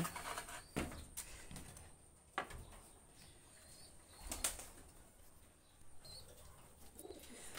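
Pigeons in a breeding room beat their wings in several short, sudden flurries, with faint cooing between the bursts against a quiet indoor background.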